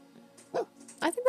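Short, sharp barks from a pet dog in The Sims 4, two or three quick yaps rising in loudness near the end, close and clear against a quiet background.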